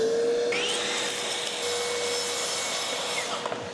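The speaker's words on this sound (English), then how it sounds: "Why did all of the styrofoam come out of the vacuum?" A vacuum cleaner roars close and steady while sucking up styrofoam at an off-grid cabin in winter, with a high whine and faint rattling of foam bits inside.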